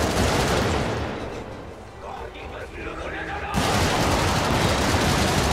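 Loud, continuous automatic gunfire in the video game Helldivers, dense bursts that dip briefly before surging back to full intensity, with a player's voice talking through the shooting.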